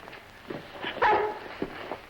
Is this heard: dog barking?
yes